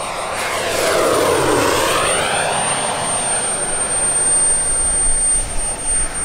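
A Natrix turbine jet model airplane makes a low pass, its steady loud whooshing roar swelling as it sweeps by and then holding as a sustained turbine hiss with a high whine, no talking over it.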